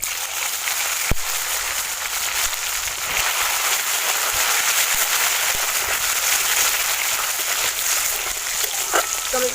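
Chopped tomatoes sizzle and fry in a cumin tempering, a steady broadband crackle filling the whole stretch with one sharp tap near the start, no talking.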